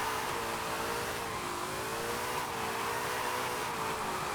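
A drift car in Forza Horizon 5 revs as the throttle is worked, a loud steady engine whine wavering up and down with no one speaking.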